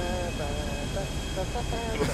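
Airplane engine in a GTA video game, a steady, close drone with a constant whining tone that holds throughout, with people talking over it.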